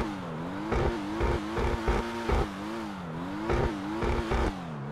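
Pariah sports car engine in GTA 5 Online, a steady, wavering engine drone with a series of punchy revving bursts spaced through the clip, no talking.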